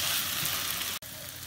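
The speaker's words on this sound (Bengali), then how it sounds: "সবগুলো উপকরণ ভালোভাবে মিশিয়ে নেব এবং 1-2 মিনিট ফ্রাই করে আমরা নামিয়ে নেব আমাদের নুডলসটা" Chicken vegetable noodles frying in a pan give off a steady, bright, hissing sizzle, close and continuous apart from one split-second break.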